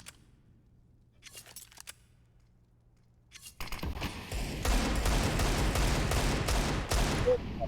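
Counter-Strike gunfire on the Mirage map during a professional match: a few sparse, faint shots and clicks at first, then a sudden loud, dense barrage of rapid automatic rifle fire that continues steadily to the end.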